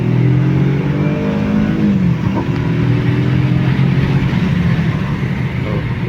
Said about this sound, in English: I'll just floor it once again and then I'll get going.